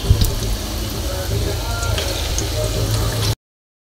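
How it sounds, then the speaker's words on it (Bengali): Cabbage pakora fries in hot oil, a steady close sizzling hiss with faint crackles lasting a few seconds before cutting off. "ভেজে নিচ্ছি।"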